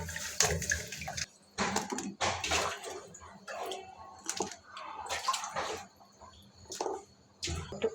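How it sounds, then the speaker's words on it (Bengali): Pumpkin seeds being washed by hand in a bowl of water, with close, uneven bursts of sloshing and splashing broken by short pauses. "এগুলো এখন আমি সবগুলো ধুয়ে নেব।"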